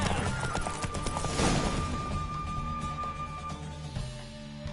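Hooves of Roach, a horse galloping in a race in the Witcher 3 video game, drum in a fast steady clip-clop, fairly close and continuous, mixed with game sounds.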